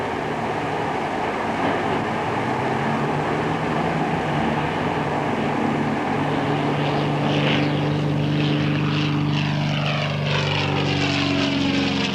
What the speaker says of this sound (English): Red alert, enemy aircraft at 310